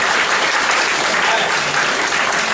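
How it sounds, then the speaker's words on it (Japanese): Audience applause, a dense, continuous burst of clapping, loud and steady from start to finish with no talking over it. "拍手や"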